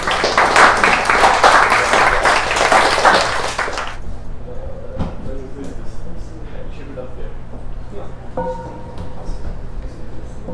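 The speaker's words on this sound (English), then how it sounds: "Can we give a nice hand applause to these 5 friends?" A live audience claps for five friends at a Buddhist talk, dense applause filling the first four seconds before fading into quiet room tone.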